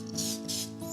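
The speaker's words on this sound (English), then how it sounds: "spraying the ramekin" A short hissing spray of cooking spray onto a ramekin in two or three quick bursts, close up, over a steady low hum.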